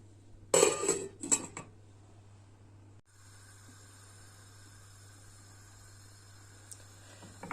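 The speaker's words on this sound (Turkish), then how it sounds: "Karıştırıyoruz ve Kapağını kapatıp pişmeye bırakıyoruz çorbamızı" A spoon clatters briskly in a metal pot of milky barley vermicelli soup, then a lid clanks shut in a short burst, followed by a steady low hum of the stove.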